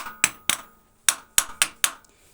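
Seven sharp metallic taps from a hammer, struck lightly in an uneven rhythm with short pauses between, close by and otherwise quiet.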